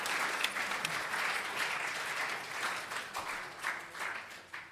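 An audience applauds a panel discussion, sustained clapping from a large crowd throughout, fairly soft and even with individual claps popping out, no speech over it.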